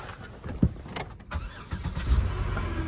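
Mercedes-Benz C63 AMG with frame damage cranking over and catching, a short whirring starter burst followed by the engine firing and settling into a rough low rumble nearby, no talking.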